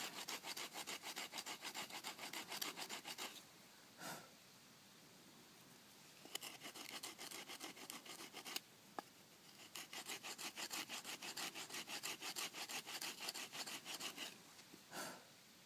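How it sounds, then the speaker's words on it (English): Rhythmic back-and-forth sawing and rasping of wood with a stone, fast repeated strokes in long bursts with short pauses between, close up and with no voices. "It's all sort of sawing and sanding things to shape."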